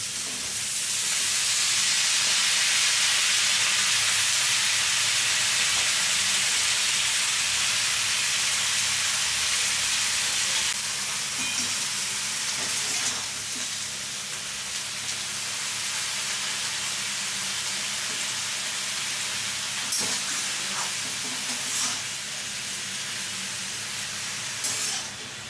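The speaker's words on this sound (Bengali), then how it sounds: "এবারে কেটে রাখা লাউ শাক দিয়ে দিচ্ছি" Chopped bottle gourd greens hit a hot frying pan and set off a loud, broad sizzle that holds steady and then eases to a softer hiss as cooking goes on.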